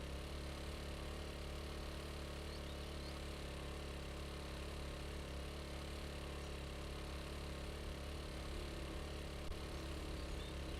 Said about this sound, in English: Taking the motorbike this time.